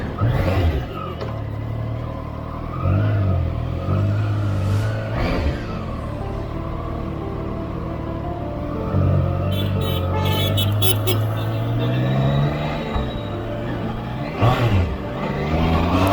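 A Triumph Trident 660 middleweight motorcycle engine revs and pulls away, its rising and falling engine note steady and fairly loud throughout, with a few surges and wind rushing past.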